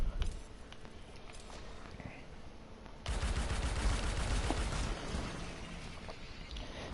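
Gunfire from shooting in the sci-fi video game Anthem comes as a dense, continuous burst of rapid shots that grows louder partway through and layers over game ambience.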